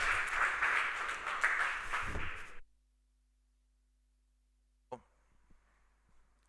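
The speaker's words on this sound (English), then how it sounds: "Please give him a warm round of applause" Audience applause welcoming a speaker on stage at a sports tech startup showcase, a dense burst of clapping for about two and a half seconds that cuts off abruptly into silence, followed by faint handling noises.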